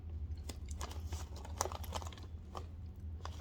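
Crunchy Indian snack made with chili powder, ginger, vegetable oil and salt, chewed close to the mic: soft, quiet crunches and bites in an irregular rhythm, with no talking.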